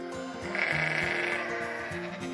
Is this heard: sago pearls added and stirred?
no